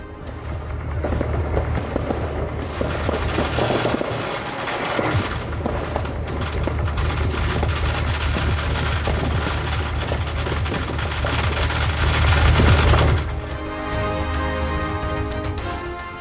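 Dense, continuous crackling of firecrackers bursting in rapid strings during Diwali celebrations in Tamil Nadu, loud and sustained, with overlapping pops and booms filling the air.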